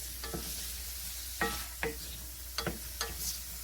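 Grape tomatoes cook in a pan with a steady low sizzle, and a few sharp clacks of a utensil against the pan sound at irregular intervals. No one speaks.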